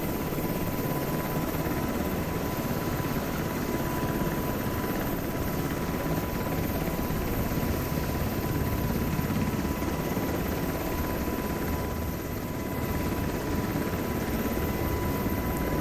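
UH-60M Black Hawk helicopter in flight, heard from inside as a constant loud rotor and turbine roar with a steady tonal hum, continuous throughout with no talk.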